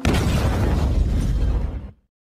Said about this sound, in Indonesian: terjadi ledakan dari sebuah truk yang diberhentikan